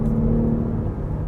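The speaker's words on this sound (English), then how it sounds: "Here also shifting down with the manual pads and giving it more RPM" A 2018 Audi SQ5's V6 petrol engine climbs in revs during a manual paddle downshift, a steady close whirring drone with no talk over it.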